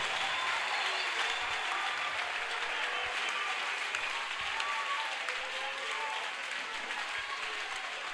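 A church congregation at a worship service applauds steadily, a dense wash of clapping mixed with faint cheering, heard at a moderate distance and sustained throughout without pause.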